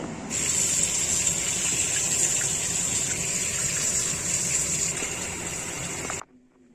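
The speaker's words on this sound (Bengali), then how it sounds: "মাছটা এখন ধুয়ে নিচ্ছি" Tap water gushes steadily while a fish is rinsed under it in a home kitchen, a continuous close splashing flow that stops abruptly near the end.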